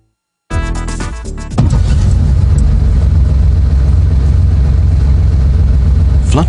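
A car engine starts up and settles into a steady, loud idle with a constant low rumble, heard close and alone, with no talking.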